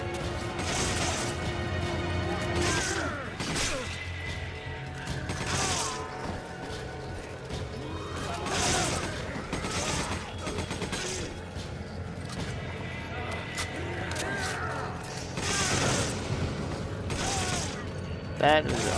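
An SMG fires repeatedly in Resident Evil 5, bursts of rapid gunfire crashing and clattering in loud waves over a busy mechanical background of game action.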